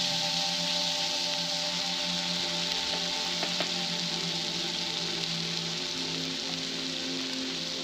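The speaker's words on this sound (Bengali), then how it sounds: "তো এখন আমি এগুলোকে একটুখানি কষিয়ে নেব।" Ginger, garlic, green chilli and onion pastes frying in a pan, giving a steady, even sizzle like light rain that runs unbroken and close with no talking.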